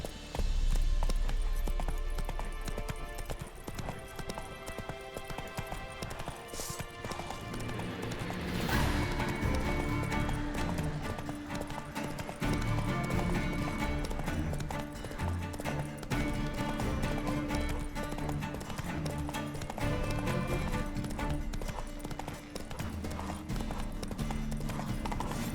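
Roach the horse galloping in The Witcher 3: steady rhythmic hoof clip-clops running throughout, moderately loud over a continuous game music and ambient bed.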